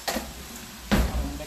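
A spoon stirs chicken and beef taco filling with chopped purple onion in a pan, giving two short, close scraping strokes separated by a brief pause.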